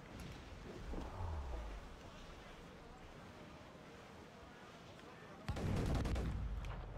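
Ship cannons boom out at schooners during a naval battle in Assassin's Creed IV: Black Flag, heavy low blasts opening the stretch and a louder volley near the end over steady wind and waves.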